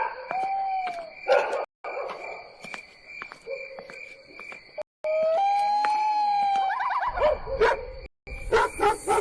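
A dog barking and howling in a quiet, desolate place at night, with long rising and falling howls and short sharp barks in bursts, alongside steady insect chirps and other tonal noises, with no talking.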